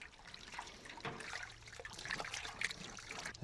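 Soft, close trickling and sloshing of hot water as a chicken is dipped and scalded before hand plucking, with faint splashes and drips and no talk.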